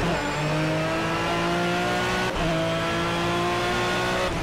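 A race car in Project CARS on PS4, racing against aggressive AI opponents, roars steadily at high revs with rising gear pitches and a brief shift midway, loud and continuous with no talk.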